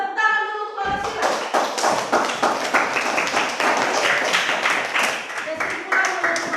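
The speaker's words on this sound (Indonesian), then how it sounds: "Tepuk tangan dulu kepada Sila." Classroom applause for a student named Sila: a brief voice is followed by a burst of dense, steady hand clapping from a group that carries on for several seconds at close range.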